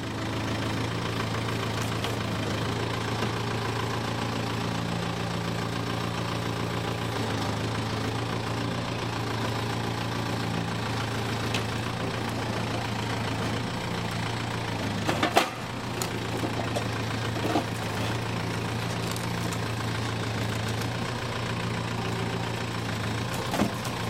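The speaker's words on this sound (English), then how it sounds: "Here, the bucket was replaced with pallet forks, making fairly quick work with stacking logs." A farm tractor fitted with pallet forks stacks logs, its engine idling steadily and running continuously throughout, with a brief clunk or knock partway through and no talking.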